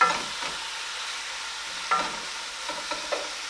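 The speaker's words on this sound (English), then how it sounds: "So just want to mix all this up so the onions coat everything" Onions and chilies mixed in a hot pan for lamb rogan josh, a faint steady sizzle under several scraping strokes of stirring, with a sharper knock now and then.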